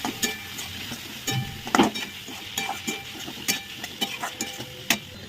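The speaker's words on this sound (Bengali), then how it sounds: "দিয়ে ভালো করে এটাকে এবার নাড়বো।" Chowmein vegetables with salt, turmeric, ginger and cumin get stirred in a frying pan, with a steady close sizzle and repeated scrapes and clicks of a spatula against the pan.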